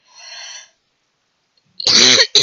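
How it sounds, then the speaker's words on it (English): Two coughs, close and loud: a softer, breathy one first, then after a short pause a harsh burst ending in a quick final hack. "Sorry for the coughing"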